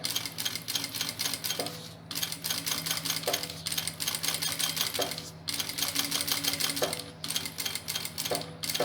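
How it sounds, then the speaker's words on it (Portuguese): A sewing machine stitches along the edge of a fabric bag pocket. Its fast, steady mechanical chatter runs nearby in bursts of a second or two, separated by brief pauses where the material is turned. "Viro o meu material e eu sigo costurando aqui bem na bordinha."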